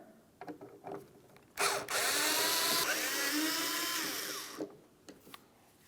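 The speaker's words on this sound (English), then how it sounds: "To do this, you're going to remove 2 Phillips head screws. Let's remove the pair." A power driver whirs steadily for about three seconds as it backs out Phillips head screws from the third brake light of a 2002-2005 Ford Explorer, with quieter handling noises before and after.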